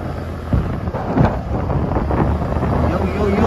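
Wind buffets the microphone in rough, rushing gusts, with engine rumble underneath while riding a Yamaha Fazzio scooter.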